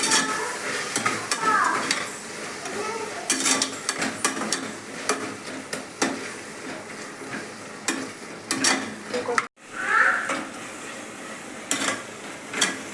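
Mint and coriander stirred and fried in a pan: clanking spoon strikes against metal over a low sizzle, irregular and close, with faint background voices at times.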